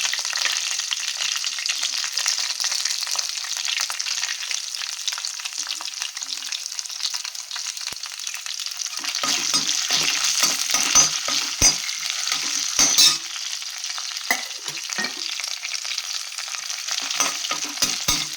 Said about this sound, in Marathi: आता थोडे काजू पण टाकते फ्राय व्हायला।